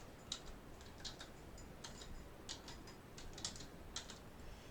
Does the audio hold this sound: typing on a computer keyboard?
yes